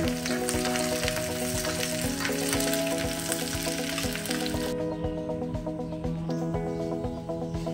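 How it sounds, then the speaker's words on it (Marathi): Green chilli, garlic and ginger fry in hot oil, a loud continuous sizzle with regular stirring scrapes, while music plays steadily underneath. "त्याच्यामध्ये आपण हिरवी मिरची, लसूण आणि अद्रक घेऊया। थोडंसं हलवून घेऊ।"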